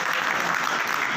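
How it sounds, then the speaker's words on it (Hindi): Villagers at a gathering clap for themselves after being praised, a dense, steady wash of applause filling the short moment with no speech over it. "आप एक बार अपने लिए जरूर तालियां बजाएं।"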